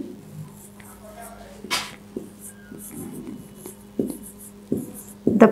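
Sentences being written by hand with a pen on paper, a soft scratchy scrawl with scattered short taps, heard faintly over a steady low hum with some talk nearby.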